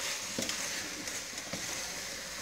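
Potato, turnip and carrot pieces sizzle steadily in a pot as a soup base cooks, a soft continuous frying hiss broken by a few light knocks from stirring.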